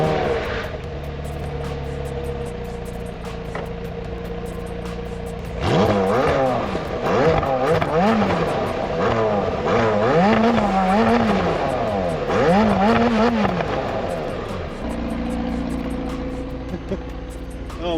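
A McLaren 720S accelerates hard on a drive, its engine note climbing and falling through repeated loud revving sweeps over a steady low rumble, close and unbroken by talk.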